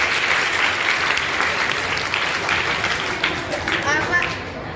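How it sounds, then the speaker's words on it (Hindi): An audience at a school event on study skills, health and good-touch/bad-touch awareness gives a little girl named Tanisha a loud, sustained round of clapping, with voices mixed in and the applause thinning slightly toward the end. "एक बार तनिषा के लिए तालियां हो जाए जोरदार"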